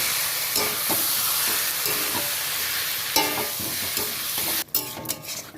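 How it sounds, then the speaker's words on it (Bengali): Spice paste fries with chicken in a pan, a loud, continuous close sizzle with repeated stirring scrapes, then a sudden clatter near the end as the sizzle drops away. "এই যে এই পেস্টটা আমি দিয়ে দিলাম আবারও ভালো করে ভেজে নেব"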